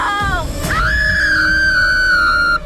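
A loud, drawn-out scream sound effect from the horror video game Until Dawn, starting as a falling wail then rising into a sustained high shriek that holds steady for about two seconds before cutting off abruptly.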